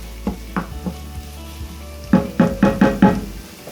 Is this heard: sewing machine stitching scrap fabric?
no